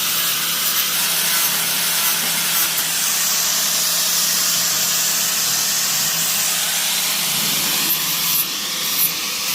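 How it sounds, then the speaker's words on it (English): A grinder wears down welds on a VW T4 van, giving a steady, loud, abrasive hiss that runs unbroken for several seconds before briefly shifting pitch near the end, with no talking. "guy's grinding off all these welds, making it look all fresh"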